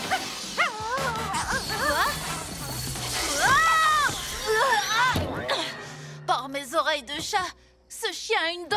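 A small cartoon dog in the animated series PJ Masks yips, whimpers and barks in short bursts amid cartoonish voices and splashy sound effects.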